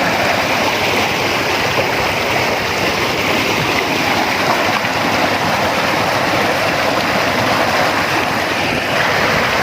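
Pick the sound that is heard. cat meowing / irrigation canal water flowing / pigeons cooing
irrigation canal water flowing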